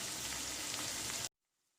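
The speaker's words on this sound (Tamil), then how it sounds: "நம்ம கொதிக்க வச்சுருக்க தண்ணியை வந்து இதில் சேர்த்துக்கலாம்" Boiled water poured onto sautéed onions in a pan for rava upma, a dense loud sizzle and hiss that cuts off abruptly after about a second, leaving near silence.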